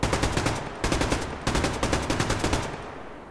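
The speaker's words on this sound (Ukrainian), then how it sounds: "Десь по нам стріляли." Machine gun fire in the online shooter Survarium, loud rapid bursts of evenly spaced shots in three strings separated by brief pauses, fading slightly toward the end.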